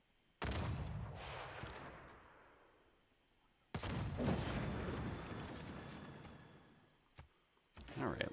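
Gunfire bursts from a city assault in Civilization VI, two long loud volleys of shots with rumbling echoes, each fading slowly, followed by a brief sharp crack and a final burst starting at the end.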